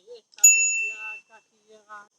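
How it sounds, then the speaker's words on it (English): A single bright ding rings out from the built-in bell on an ADO Air One Pro carbon belt-drive ebike, ringing briefly close up amid short bits of speech. "So the bike comes with a built-in bell."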